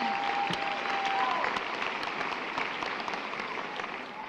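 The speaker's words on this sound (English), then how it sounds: "That is something to clap about." A crowd applauds at a high school graduation ceremony, a broad steady roar of many hands clapping in a large space that tapers slightly toward the end.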